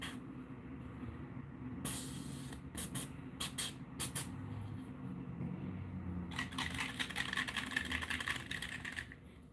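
An airbrush hisses in short, sharp bursts and then a longer continuous spray as paint goes onto a bluegill fishing lure pattern, close and fairly quiet.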